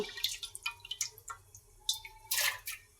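Water drips quietly while masoor lentils are washed, with a series of soft, separate splashes and droplets at close range and a slightly louder splash near the end.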